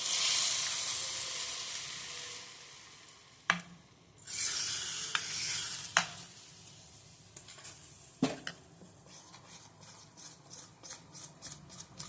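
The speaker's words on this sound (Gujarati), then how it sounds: "એને આપણે ધીમા તાપે મૂકશું અને આનો આપણે વઘાર કરીશું." Whole spices tempering in hot oil over a low flame in a home kitchen, a soft steady sizzle and hiss with several sharp crackles and pops scattered through it, close by and alone.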